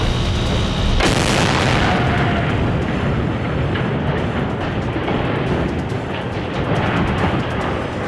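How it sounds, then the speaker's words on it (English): Demolition explosions breaking up the collapsed Baltimore bridge: a heavy boom strikes about one second in, followed by a sustained loud roaring rumble that fills the remaining seconds, with no talking. "Explosions breaking up the monumental bridge collapse in Baltimore."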